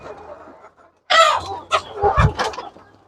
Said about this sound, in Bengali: দেখতে পাচ্ছেন এই মুরগিগুলো কিন্তু অনেক দুষ্ট প্রকৃতির